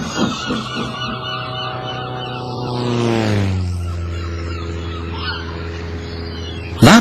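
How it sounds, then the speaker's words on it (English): A propeller plane drones overhead, its engine pitch sliding downward as it passes, loud and steady before a sudden bump at the end. "That plane's making a great deal of noise about something, said Percy to Oliver."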